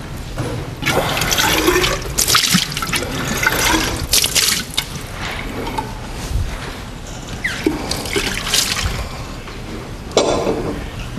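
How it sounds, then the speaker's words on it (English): Deionized water runs steadily from a lab sink spigot with a white knob, a continuous rushing splash lasting throughout with small surges and gurgles, fairly loud and close, with no talking. "This is our deionized water."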